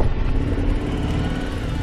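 A 2012 Harley-Davidson Road Glide Ultra motorcycle idles steadily nearby, a deep, even engine rumble holding constant throughout with no voices.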